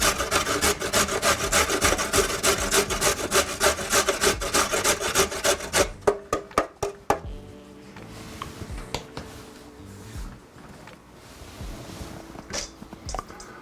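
Carrots are grated by hand for carrot apple nut muffins. Fast, rhythmic rasping strokes come up close, then slow to scattered, softer scrapes.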